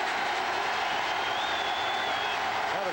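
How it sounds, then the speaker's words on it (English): A football stadium crowd roars during a 1989 Cowboys at Saints game, a dense, loud, sustained wall of noise filling the whole moment, with a commentator's voice partly under it. "Now the crowd decides to exercise its lungs just to see if they can affect the play"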